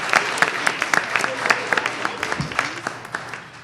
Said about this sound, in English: Let's give one more big round of applause to our students from Triangle and Sunnymead School.